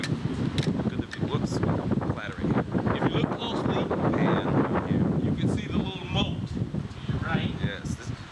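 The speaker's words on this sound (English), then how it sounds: "It's a little windy because we're so high up." Strong gusty wind on a high-rise penthouse level in Miami buffets the microphone continuously, roaring and rustling at close range with no break.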